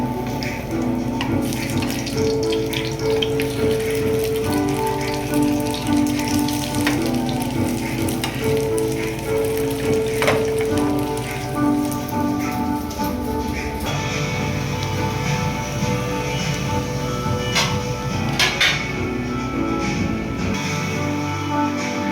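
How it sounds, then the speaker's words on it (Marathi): A bread cutlet fries in a pan over a medium flame, giving a steady, close hiss of sizzling with light crackles that carries on without a break. "तर गाईज हे कटलेट फ्राय होते"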